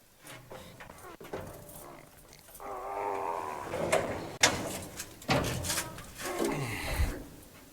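Heavy steel flame-seal doors of a powder magazine aboard the WWII battleship USS Massachusetts slide and grind open, a rumbling metallic scrape with clanks and thuds, loud and close inside the ship.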